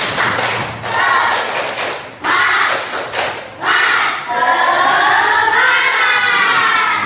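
Children in a classroom performing the tepuk semangat rhythmic clapping chant, loud bursts of synchronized claps in several short patterned groups separated by brief pauses, ending in a sustained shouted chorus.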